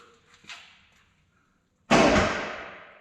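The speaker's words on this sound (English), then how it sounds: "Give the winch another burp." An off-road wrecker's winch gives a short burst, a sudden loud clanking, grinding surge that starts abruptly after a quiet stretch with a few faint knocks and then slowly fades.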